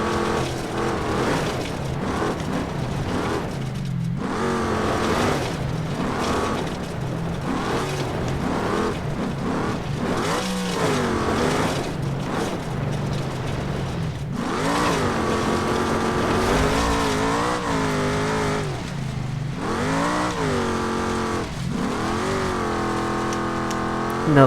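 A car spins donuts in loose sand in the BeamNG driving game, its engine revving up and down in rising and falling sweeps, loud and continuous throughout with brief dips between bursts of throttle.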